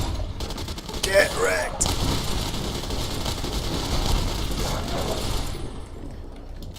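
A Lewis Automatic Machine Gun fires in Fallout: New Vegas, a dense sustained burst of rapid shots with a voice shouting over the gunfire.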